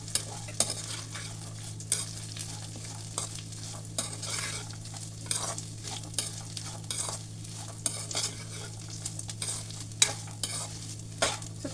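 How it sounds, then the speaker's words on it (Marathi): Peanuts and peas roast in a pan with a soft sizzle while a spoon scrapes and taps in frequent close stirring strokes, and a low steady hum sits underneath. "त्यानंतर आपण शेंगदाणे घालून घ्यायचे. छानपैकी परतायचं आहे ते."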